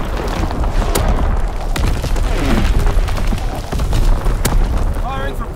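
Heavy artillery strike in a video game match, booming impacts and explosions rolling continuously with sharp blasts over a rumbling bed, while a voice calls out over the barrage.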